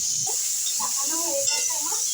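Potatoes and cauliflower stems fry in hot oil, a steady close hiss and sizzle running throughout, with someone speaking over it.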